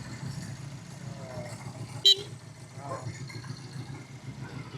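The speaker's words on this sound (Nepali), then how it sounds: "एकचोटि हरन बजाउनु न" A rare vintage motorbike in Nepal gives one short, sharp horn toot midway, standing out above a quiet idling engine and faint murmuring voices.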